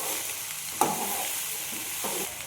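Okra stir-fry being stirred in a pan with a soft steady sizzle underneath and a few scraping spatula strokes, close and moderately loud with no talking.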